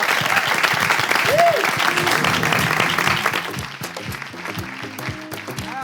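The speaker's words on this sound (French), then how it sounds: "Est-ce qu'on peut faire un tonnerre d'applaudissements pour ces gens-là, ces autres gens-là?" A thunderous round of applause from the crowd at a talent show grand final debrief, loud at first and thinning toward the end as a voice talks over the clapping.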